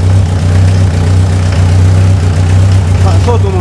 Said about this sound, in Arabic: هذا محرك ديزل يشتغل على الارض